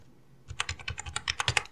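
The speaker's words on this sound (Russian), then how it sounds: "Ввожу секретный пароль." Password being typed on a computer keyboard, a quick run of about a dozen crisp, close key clicks in uneven rhythm after a brief quiet start, with no voices.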